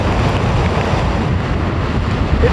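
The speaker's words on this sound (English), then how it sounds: "The winds have been gusting over 40 miles an hour." Strong gusting wind over 40 miles an hour and pounding surf at Moonstone Beach as a storm approaches, a loud continuous roar with heavy wind buffeting on the microphone and no voices.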